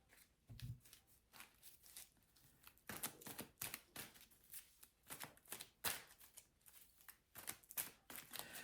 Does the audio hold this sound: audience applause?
no